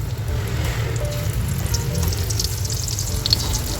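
Tawilis fish fry in hot oil in a pan, with a loud, steady sizzle and crackle throughout and no voices.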